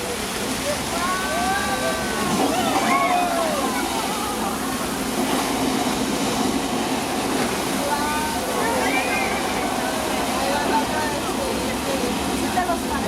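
Rushing water of a staged flash flood effect on a Universal Studios tram tour, a loud continuous roar and splash with crowd voices and shrieks mixed in throughout.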